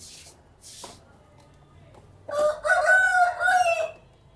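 A hill-country native rooster crows loudly and fairly close by, one long drawn-out call after a few faint rustles and quiet background sounds.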